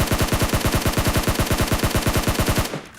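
Rapid automatic fire in the shooter game PUBG during a squad fight in a house, a loud, evenly spaced stream of about two dozen close shots that stops abruptly near the end, with no voices.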